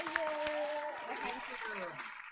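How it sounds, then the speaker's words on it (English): Live-streamed improv comedy audience gives a round of applause, a dense wash of clapping heard under speaking voices for the whole short stretch. "give a huge round of applause to the audience at home"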